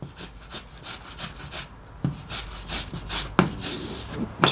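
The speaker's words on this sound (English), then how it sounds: "razor plane" Rhythmic rasping strokes of a razor plane shaving soft balsa wood, close and fairly loud, in quick repeated passes with brief pauses between bursts.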